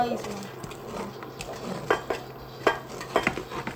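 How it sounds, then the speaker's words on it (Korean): A spoon scrapes and clinks in a pot as nuts are stirred into a chewy cookie mixture, with a few sharp metallic knocks standing out over quiet background. "견과류를 넣고 계속 섞어주세요"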